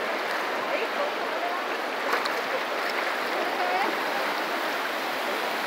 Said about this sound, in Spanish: para que vean las crecientes del río Juchipili